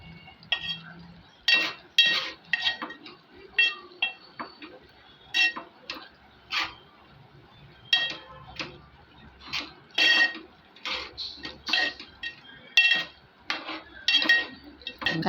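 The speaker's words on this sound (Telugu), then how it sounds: "ఉప్పు, కారం వేసుకొని ఇవన్నీ బాగా కలుపుకోవాలి ఒకసారి." A spoon taps and clinks against the pan in quick, irregular bursts while ridge gourd curry is mixed with salt and chili. The sound is close but fairly quiet.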